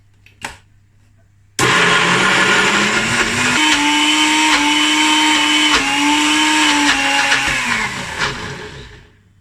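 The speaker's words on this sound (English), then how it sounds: "So it blended for a couple of minutes" A faint tap, then a small personal blender making vegan butter roars to life and runs loud and steady for several seconds before winding down.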